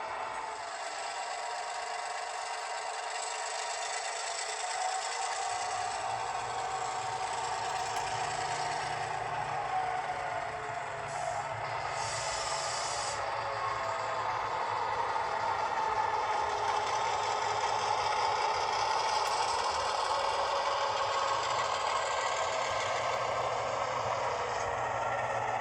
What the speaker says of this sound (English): Operations are so much more fun and relaxing when you have a great running engine. This is an Atlas MP15.